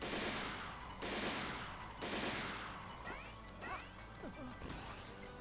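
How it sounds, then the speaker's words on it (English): Sniper fire in the video game Mighty No. 9 at the Capitol Building level: three heavy, sharp cracks at about one-second intervals, each followed by a decaying crash, then quieter whooshes and electronic game effects. "Sniper fire?"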